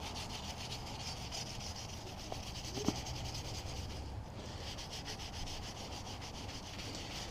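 Hard nylon brush with brass-tipped bristles scrubbing grime off a Stihl 441 chainsaw, a steady faint rasping rub running throughout with a brief tap near the middle.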